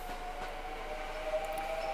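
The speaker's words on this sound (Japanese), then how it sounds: "横からなんか電車が出てるな。" A Kintetsu train moving at the Nabari depot before dawn, a faint, steady low rumble of rolling cars heard from a distance with a thin tonal whine running through it.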